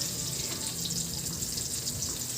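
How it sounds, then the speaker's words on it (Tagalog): Tortang talong, an eggplant omelette, frying in a pan: a steady, close, fairly quiet sizzle with constant hiss and faint crackle, with no talking. "prito ko na yung tortang talong"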